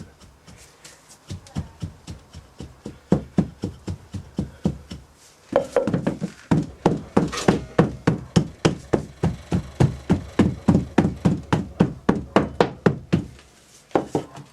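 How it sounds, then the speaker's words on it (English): Foundry sand being rammed into a casting mould with steady, repeated dull thumps, a little under three per second, close by, with one short pause before the pounding resumes. "Try and keep the sand rammed."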